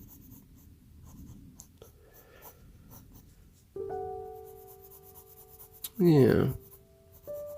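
Pencil sketching on soft white sketchbook paper, with light scratchy strokes running through most of the stretch while a person talks quietly, followed by a brief louder rustle near the end.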